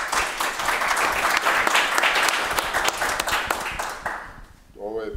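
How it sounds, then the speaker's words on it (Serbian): Audience applause at a public panel discussion on contemporary Serbian culture: loud, dense, sustained clapping from a crowd that fades near the end as a voice begins speaking. "Ovo je bio aplauz za minuli rad"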